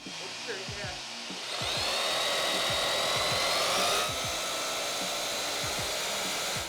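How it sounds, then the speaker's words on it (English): A steady high-pitched power drill whines continuously, loud and close, drilling holes into a concrete garage floor through a lift plate, with a faint scraping rumble underneath and a brief start before it spins up. "We're going to start drilling with the plate in place to make sure the holes are aligned properly."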